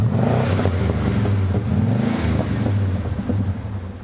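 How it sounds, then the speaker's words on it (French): A V8 pickup fitted with a Magnaflow stainless steel exhaust rumbles loudly up close, a deep throbbing burble that rises briefly and then eases off slightly toward the end, with no voices over it. "que ça fasse un petit peu plus de bruit, qu'on entende le V8"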